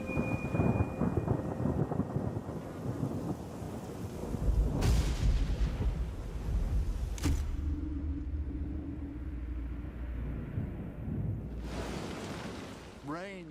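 A thunderstorm rolls over the Serengeti plains with a steady hiss of heavy rain. Deep thunder cracks and long rumbles sound loud and continuous throughout.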